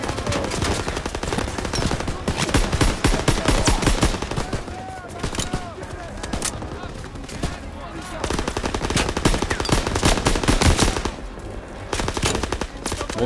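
Rapid automatic gunfire in the Call of Duty: WWII video game, dense bursts of machine-gun fire and explosions continuing throughout, loud and close, with occasional voices underneath.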